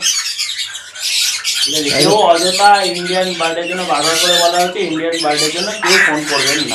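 Exotic birds at a large bird farm squawk loudly and harshly in repeated, overlapping calls close to the listener. Someone talks over the birds, and the raucous cries carry on almost without a break.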